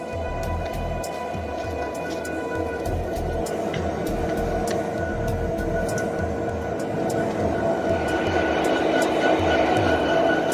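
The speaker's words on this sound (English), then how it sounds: "Train engine has my favorite horn." A train passes at close range, a loud steady rumble of locomotive and rail cars with sustained tonal notes that fit an engine horn, growing slightly louder toward the end.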